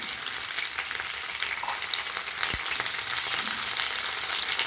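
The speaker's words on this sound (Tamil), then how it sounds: "பாதி எண்ணெய் போட்டுக்கலாம். கத்திரிக்காயை வதக்கலாம்." Brinjal sautéing in oil in a hot pan, a steady close sizzle and crackle with a faint scrape or two, no voices over it.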